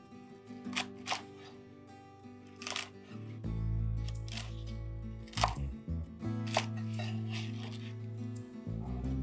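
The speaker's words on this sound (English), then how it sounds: "Cut the lettuce into bite-sized pieces." A knife slicing Chinese leaf lettuce into bite-sized pieces on a board, a series of crisp, quiet chops spaced irregularly against a steady background hum.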